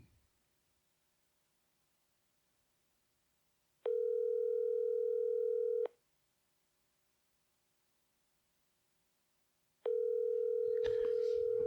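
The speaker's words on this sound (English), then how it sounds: "It's ringing." A telephone ringback tone while a conference call is being placed, two long steady buzzing tones about six seconds apart, clear against near silence, with faint rustle near the end.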